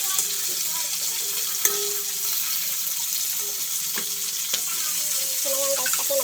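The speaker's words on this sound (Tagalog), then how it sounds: "igisa na natin yung sibuyas. Sibuyas at ayan, lagyan na natin ng yung mushroom pala natin." Onions and mushrooms sautéing in a pan, a steady close sizzle with occasional clinks and scrapes of a utensil stirring against the cookware.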